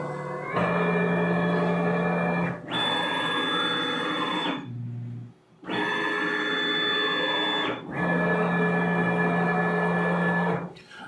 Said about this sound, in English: let's have the machine measure the length of the tool